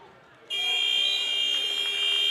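A loud, sustained electronic buzzer sounds at the end of a period in a boys' high school wrestling match, starting abruptly and holding steady in an arena setting.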